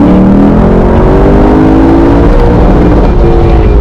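A 2022 Lexus LC 500 Convertible's V8 held at high revs, bouncing steadily against its fuel cut in a loud, continuous, buzzing drone close by.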